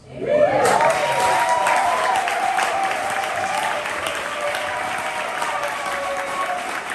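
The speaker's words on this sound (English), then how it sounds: "Applaud the poet. And keep that applause." Crowd applauding a poet at a spring poetry slam, clapping swelling in quickly and holding steady and loud, with cheers and whoops riding over it before it eases slightly.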